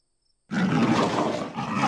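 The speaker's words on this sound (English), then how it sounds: "leopard" A leopard gives a loud, rasping roar that bursts in after a moment of silence and carries on harshly and close for over a second, with a brief dip before it continues.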